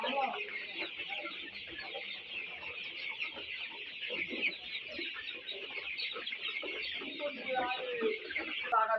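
Chickens on a poultry farm cluck and chatter continuously at close to moderate distance, many birds overlapping in a busy, steady flock sound.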